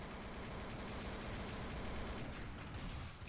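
Rapid bursts of gunfire in Garry's Mod Zombie Survival, dense and continuous like a fusillade, loud and close with no pause for about three seconds.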